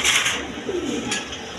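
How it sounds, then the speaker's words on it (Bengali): An Indian Bombay pigeon gives a short, soft coo close by, with faint background noise. "এখানে এক পেয়ার বোম্বাই কবুতর আছে, অরিজিনাল ইন্ডিয়ান বোম্বাই কবুতর"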